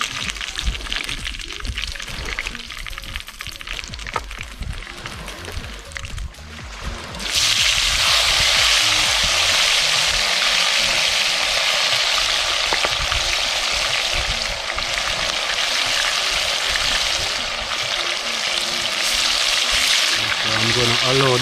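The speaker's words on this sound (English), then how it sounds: "I'm going to allow them to fry." Chicken meat drops into a hot pot with scallion, garlic, thyme and pimento seed and breaks into a loud, steady sizzle and crackle that keeps up to the end, after quieter stirring and clatter at first.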